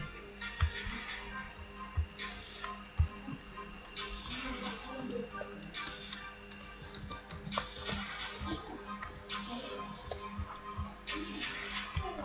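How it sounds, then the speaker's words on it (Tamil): Quiet, intermittent clicking of computer keyboard keys comes in short bursts while text is typed during Photoshop design work, faint against a low room background. "தேவையான டெக்ஸ்டை டைப் பண்ணி"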